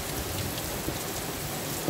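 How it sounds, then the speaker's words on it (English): Steady rain falls outdoors in a continuous, dense hiss of drops on surfaces, close and fairly loud with no voices. "It's still raining."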